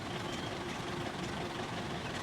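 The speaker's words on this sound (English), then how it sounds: "He's got his engine running." A car engine idles in a steady, even rumble for a couple of seconds, moderately close and unbroken, with no voices.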